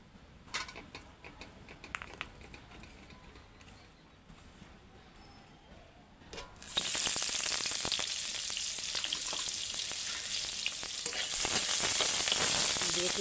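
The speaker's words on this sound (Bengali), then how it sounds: "কড়াতে তেল আছে, ওই তেলেতেই আমি এবার পেঁয়াজটা তুলে দেবো।" Onions go into hot oil in a wok. After quieter clicking and handling, a loud, close sizzle erupts abruptly and holds steady, hissing continuously with small crackles through to the end.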